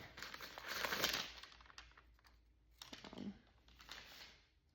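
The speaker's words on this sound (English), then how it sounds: "Sorry for that paper rustling." Crinkly rustling of a paper time card up close, a long burst followed by two shorter bouts of crumpling and handling, with no talking.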